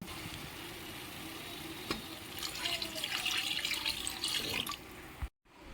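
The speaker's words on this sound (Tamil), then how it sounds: "அந்த தண்ணியை கொஞ்சமாக ஊற்றிக்கலாம்." Boiled intestine water poured into a curry pot for Tamil-style gut kuzhambu, a steady splashing pour over a few seconds, near and alone, ending abruptly.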